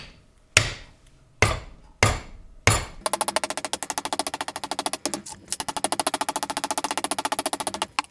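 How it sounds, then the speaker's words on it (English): A hammer strikes a 3D-printed auger housing skid mounted on the stock skid holder of a YT624EJ machine. Four sharp, loud separate blows are followed by a long run of fast, rattling taps, with no voices. "we're gonna try some calibrated hits here with a hammer from a couple different angles"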